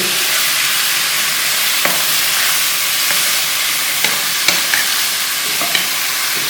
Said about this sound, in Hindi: इसके अंदर हम ये आधा किलो कीमा मटन का ये डाल देंगे। इसको अच्छी तरह भूनेंगे।